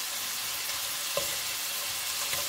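Shrimp fry in a pan, a steady low sizzle with a couple of soft clinks or stirs, heard close and alone with no talking.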